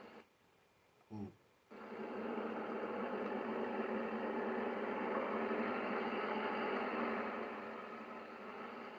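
Stara Max 180 tractor in a farming game, its engine starting up and settling into a steady droning rev that holds, then eases slightly near the end.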